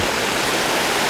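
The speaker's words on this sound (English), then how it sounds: "Streams are a bit more unruly than that of late September." Mountain stream in the Glacier Peak Wilderness in late September, running high and unruly, gives a steady, loud, close broadband rush of flowing water that fills the whole short moment without a break.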